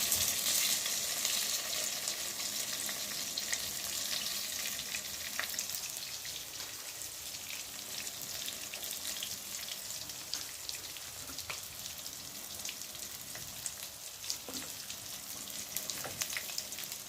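Basa fish fillets fry in hot oil with a dense, steady sizzle and crackle close by, scattered small pops throughout and no talk.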